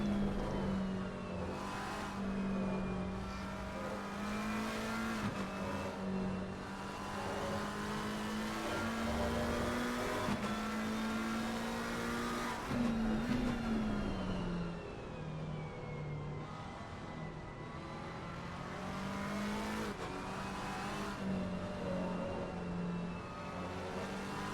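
In-car view of a race car lapping Spa-Francorchamps in a sim racing game, its engine droning steadily with rising and falling pitch through gear changes and lifts, loud and continuous with no talk.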